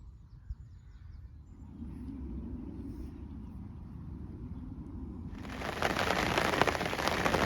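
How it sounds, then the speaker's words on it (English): Rain falls at a lakeside while tench fishing, a soft patter on surfaces that swells into a much louder, denser downpour near the end; no one speaks. "And the rain has just started"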